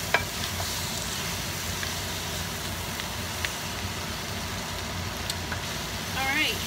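Flour being stirred into a sizzling pot for red wine braised short ribs, a steady frying hiss with soft scraping throughout and a few brief clinks, growing slightly louder near the end.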